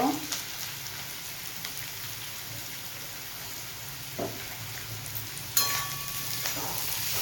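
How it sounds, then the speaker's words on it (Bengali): Salted onions frying in a pan for a chicken dish give off a faint, continuous sizzle with occasional light stirring clicks, while a voice talks over it. "ভেজে নেব ভালো করে।"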